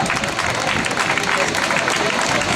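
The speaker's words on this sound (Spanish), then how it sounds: "Fortísimo aplauso para ella." Steady crowd applause for the winner of an urban mile road race in Cambados, dense broadband clapping throughout with a faint announcer's voice mixed underneath.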